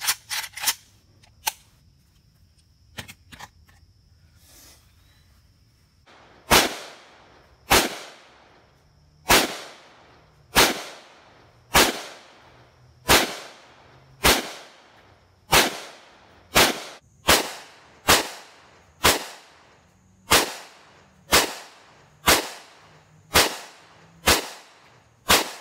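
Romanian, Bulgarian and Chinese AK-74 rifles fire about twenty loud single shots, spaced roughly a second apart, each a sharp crack with a short decaying echo. A few scattered shots and quieter handling come before them.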